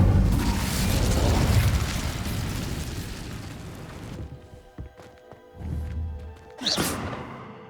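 Incendio fire spell cast in Hogwarts Legacy: a loud roaring, crackling blast of flame that fades away, followed by a few softer thuds and a bright burst near the end.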